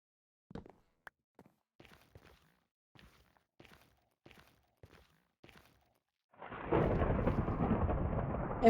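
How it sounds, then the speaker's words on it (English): Thunderstorm in Minecraft: a few soft thuds like footsteps, then a loud, sustained rumbling roar of thunder and rain that swells in the final seconds. "Here we come with the thunderstorms again."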